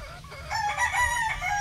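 A seven-month-old male bulik gamefowl rooster crows once, a loud, close, drawn-out call that starts shortly after a quiet opening and rises and falls over about a second.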